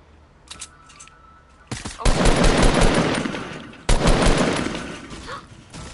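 Bursts of rapid gunfire in a video game, loud and close, with a dense volley starting partway through and a second burst a couple of seconds later, preceded by a few faint clicks.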